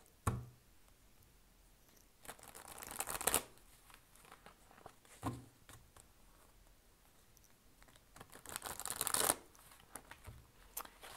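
Tarot oracle cards being shuffled in a few separate bursts of soft riffling and slapping, close and fairly quiet, with faint taps in the pauses.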